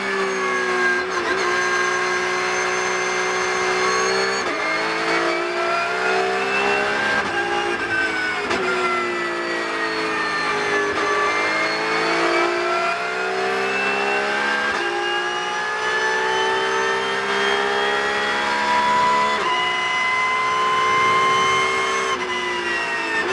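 A Porsche Cup race car heard onboard during a qualifying lap on a partly wet track, its engine loud and close, repeatedly revving up through the gears with brief dips at each shift and lift, no voices.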